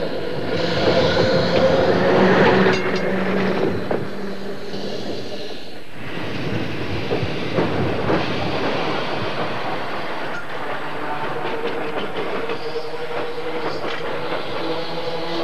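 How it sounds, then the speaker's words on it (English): A heritage tram from Hungary runs along rails on a busy day at a tramway with trams from across Britain, giving a continuous rumbling, clattering roll with metallic squeals, loudest near the start, with faint voices in the background. "Trams from all parts of Britain are here"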